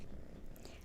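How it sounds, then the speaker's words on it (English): A kitten purrs steadily while resting on a lap, a soft, continuous low rumble heard up close with no talking over it. "Oh, you're purring too."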